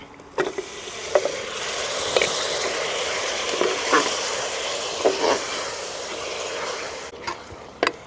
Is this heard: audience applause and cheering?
no